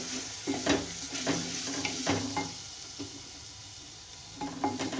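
Spices being stirred in a frying pan for aloo methi bhujia, a steady sizzle broken by repeated scraping strokes of a spoon against the pan, close and fairly loud, with no talking.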